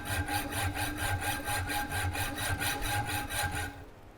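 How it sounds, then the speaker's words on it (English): A hacksaw cuts through threaded all-thread rod with steady back-and-forth strokes, a rhythmic rasping pattern of about a dozen strokes, close and loud, ending abruptly. "uses a hacksaw to cut all thread like it's 1974"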